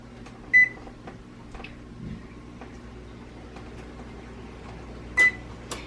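An oven being set to preheat to 350 degrees gives two short, sharp electronic beeps several seconds apart, with faint button clicks and quiet kitchen room tone between them.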